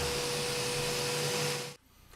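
Shop vacuum cleaner running in a German home workshop with a steady loud whine, cutting off abruptly near the end, with no talk.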